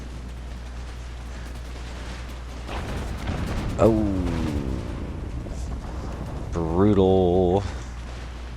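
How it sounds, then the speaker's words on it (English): Artillery cannons fire a volley in the Empire: Total War strategy game, with a few booming bursts rising over the game's battle ambience while someone talks over the action. "Let's see if we can watch this next cannon volley."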